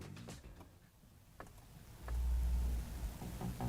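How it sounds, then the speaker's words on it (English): A 2021 Ford Mustang Mach-E electric car plays its start-up sound when the start button is pressed: faint ticks at first, then a low, loud swelling tone rising in the second half. "When you press the start button to go driving, the car emits this noise"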